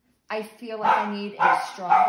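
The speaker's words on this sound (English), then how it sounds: "that's my dog." A pet dog barks a few times in quick succession, loud and close, mixed in with a person talking during an upper-limb muscle palpation demonstration.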